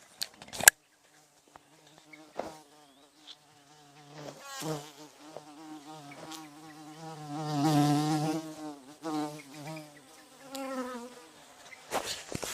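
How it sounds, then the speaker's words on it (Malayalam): Bees buzz around a coconut farm, a steady droning hum that swells as insects pass close to the microphone and fades again, with a few sharp handling knocks at the start and end. "ഇഷ്ടംപോലെ തേനീച്ചയുണ്ട് കേട്ടോ ഇവിടെ"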